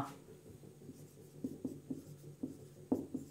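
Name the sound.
writing on a board during a physics lesson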